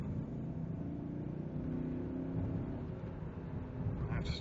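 A BMW 735 under hard full-throttle acceleration, heard from inside the cabin as a steady, loud engine drone with a low rumble that holds strong for the whole stretch.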